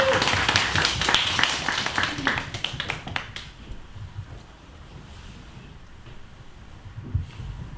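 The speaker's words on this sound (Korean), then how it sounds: "박수로 맞아주세요." An audience claps to welcome a guest at a talk event, dense applause for about three seconds that then fades to a quiet room with a few scattered claps.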